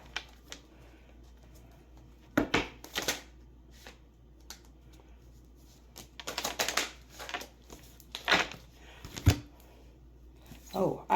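Oracle cards are shuffled in short riffling bursts with quiet gaps between them, close and crisp, and a voice speaks softly in between.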